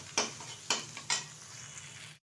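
Ginger garlic paste frying in a pan while it is stirred, with three sharp scraping strokes of a spoon against the pan over a steady low sizzle, close and fairly quiet, before an abrupt cut.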